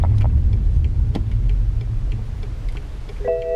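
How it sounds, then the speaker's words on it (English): A car engine rumbles steadily at close range while the car sits pulled over in neutral, a low continuous drone with faint clicks, and a short electronic chime sounds near the end. "Let's pull over and restart the car."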